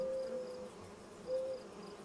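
Bees buzzing around beehives in Farming Simulator 25, heard as a steady faint drone with two brief higher buzzing tones passing close, quiet and without talk.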